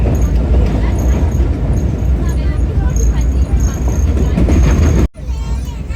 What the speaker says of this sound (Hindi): 14 डाउन अवाम एक्सप्रेस अप्रोच बना रही है गुजरात रेलवे स्टेशन पे